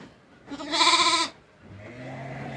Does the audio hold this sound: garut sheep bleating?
yes